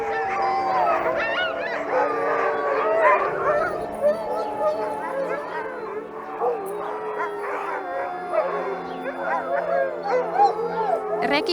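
A pack of sled dogs in Lapland howls, yips and barks together in a dense, continuous chorus, overlapping voices rising and falling close by, with a person speaking underneath.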